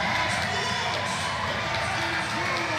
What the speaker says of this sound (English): He gets the crowd going.